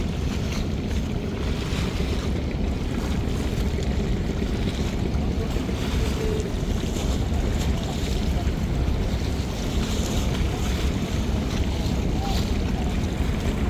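A passenger river launch from the Parabat series leaves the jetty as a steady, loud engine drone and rushing water and wind noise, continuous and unbroken throughout, with no clear speech.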